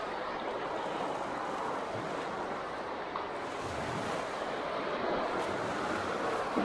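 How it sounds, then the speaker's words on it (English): Waves washing onto a rocky Michigan beach on a Petoskey stone and beach glass shore, a steady broad surf wash mixed with gusting wind noise, constant and fairly loud throughout, with no talking. "It's just so pretty listening to the waves and"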